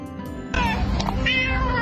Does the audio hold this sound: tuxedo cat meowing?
yes